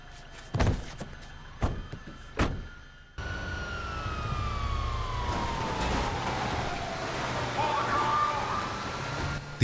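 Police car sirens wail in a GTA game scene, opening with several sharp thuds before a continuous siren tone sweeps and falls over heavy background rumble, loud and fairly near.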